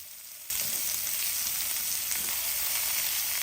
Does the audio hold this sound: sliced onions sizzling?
yes